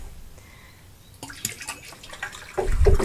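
Liquid plant nutrient poured into a tub of water for a tomato gutter grow, a quiet trickle that builds into a louder, close splashing pour near the end.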